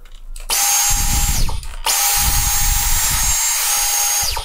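A repaired Dyson V10 cordless vacuum motor starts twice, spinning up to a steady, loud, high-pitched whine, briefly cutting out and restarting, then winding down at the end.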